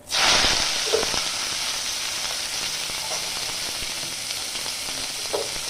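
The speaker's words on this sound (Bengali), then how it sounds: "পেঁয়াজটাকে আমি হালকা করে প্রথমে ভেজে নেব।" Chopped onion drops into hot oil that has been frying black cumin seeds and sets off a loud, bright sizzle. The crackle stays steady and close, with a few soft stirring knocks and no talking.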